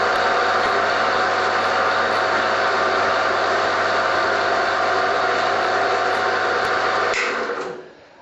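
A Chinese bandsaw runs freely after a repair with a steady motor hum and blade whir, near and loud, with a few faint ticks. It winds down toward the end, and nobody talks.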